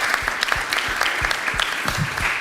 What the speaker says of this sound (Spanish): que le demos un gran aplauso porque se lo merece